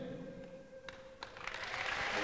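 A church congregation breaks into applause for the Lord, starting with scattered claps that swell into a full, sustained clapping over a faint steady tone.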